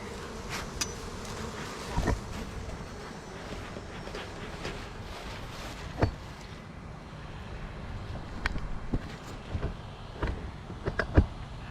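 Honey bees buzz steadily around a strong double-deep hive before winter, a dense close hum with individual bees zipping past the microphone in brief louder passes, and no talking.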